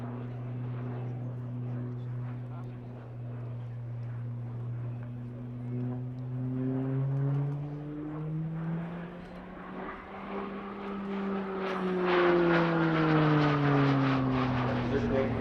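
A Slovenian PC-9M Hudournik turboprop flies a loop with a roll at the apex during the RIAT 2024 air display. Its engine drone sweeps up and down in pitch as it climbs and rolls, while a commentator talks throughout.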